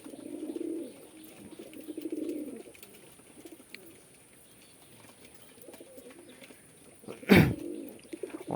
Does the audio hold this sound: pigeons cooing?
yes